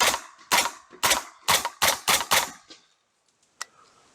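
Suppressed MP5 submachine gun fired in seven sharp, evenly spaced single shots over about three seconds, each a loud muffled crack with a short tail, followed by near silence and a faint click.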